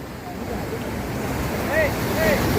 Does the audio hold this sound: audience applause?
no